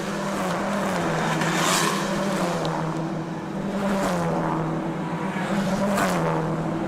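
Touring cars of the TSS series, led by the Star Performance Racing No. 51, roar out of the final turn at the Bangsaen Grand Prix street race in Thailand, a loud droning engine note swelling as cars pass in succession.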